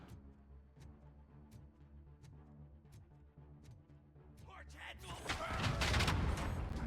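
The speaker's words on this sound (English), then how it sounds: "There was a loud explosion." Loud explosion in the RoboCop: Rogue City video game, a sudden broad blast erupting after a stretch of rhythmic gunfire-like thumps, then a sustained rumbling roar, louder than what precedes it.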